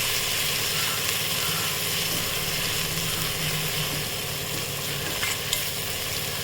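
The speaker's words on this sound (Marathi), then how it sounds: "त्यानंतर हे पीस बकऱ्याच्या पायाच्यात टाकून एक 5 मिनिट परतून घ्यायचं वाफेवर" Goat trotter pieces sauté with turmeric in a pan, making a loud, continuous sizzling and frying hiss with faint stirring scrapes throughout. No voices.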